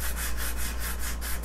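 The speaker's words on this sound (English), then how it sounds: "We're just using our sanding pads, and some of it may come off a little bit" Sanding pads rubbed across painted wood to smooth the surface while crafting a charcuterie serving board, a steady, close scratchy rasp with rhythmic back-and-forth strokes, heard alone.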